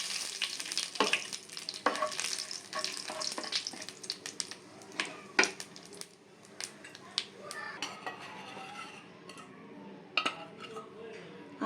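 Whole black and white cumin, dried red chilli and a bay leaf crackle and sizzle in hot oil, with steady frying hiss, sharp spitting pops and occasional stirring and clinks of utensils against the pan throughout.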